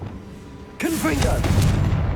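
A Confringo spell blast in Hogwarts Legacy, a sudden loud burst that erupts after a quiet moment and rolls on with a sustained crackling, rumbling tail, with a voice speaking briefly at the start of the blast.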